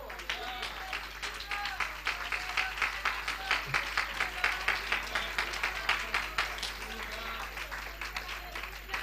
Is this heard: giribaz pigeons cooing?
no